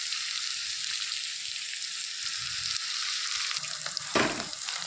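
Fenugreek seeds and curry leaves frying in hot oil for a fish curry give a steady, close sizzle and crackle, with a brief louder clatter of stirring near the end.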